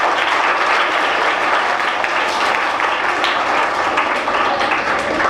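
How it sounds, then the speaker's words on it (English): Students give steady, even applause in a large room, a dense wash of many hands clapping at once for several seconds with no speech over it. "So one clap for all of you."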